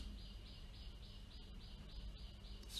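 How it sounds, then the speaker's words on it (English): Faint birds chirp in a steady repeating pattern at a distance, over a low continuous rumble. "The birds chirping in near distance"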